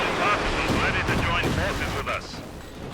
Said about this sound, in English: And the Katyusha is actually firing on the same area.